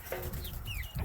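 Young hens and roosters clucking nearby in a short burst, with a couple of rising chirpy calls over low rustling farmyard noise.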